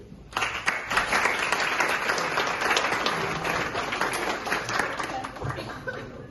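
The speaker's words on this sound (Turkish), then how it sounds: "sizleri kendinizi alkışlamaya davet ediyorum" Teachers at a union gathering in Çaycuma break into loud applause for themselves, dense sustained clapping from a roomful of people starting abruptly and tapering slightly, with faint laughter mixed in.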